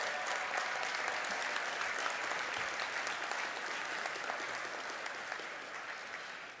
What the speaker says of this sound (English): Please stand and let's give those folks a round of applause.